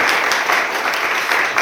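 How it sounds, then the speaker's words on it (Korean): A church audience breaks into applause for newly appointed association officers; close, dense clapping from a group of people, loud and steady across the brief stretch with slight swells. "한 해 동안 이 모든 분들 잘 해내시라고 여러분 박수 한번 부탁드리겠습니다."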